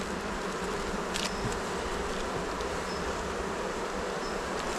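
Honeybees buzz steadily around an open beehive being inspected, a dense continuous drone filling the air close by with no talking.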